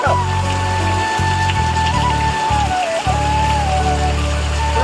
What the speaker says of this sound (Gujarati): વરસાદ બતાવો.